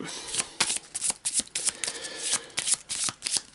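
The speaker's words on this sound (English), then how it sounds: "Quick shuffle and a cut." A deck of playing cards gets a quick riffle shuffle and a cut during a tabletop card game, producing bursts of rapid papery fluttering and sharp snaps with brief pauses between them.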